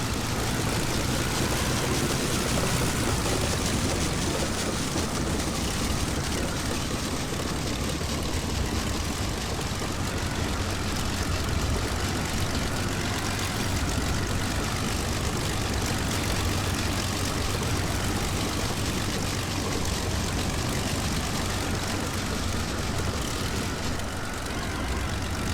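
Propeller engines of World War I fighter planes, including a Fokker, drone and idle steadily in a Wings Over Flanders Fields flight game, a loud continuous low roar filling the whole stretch without speech.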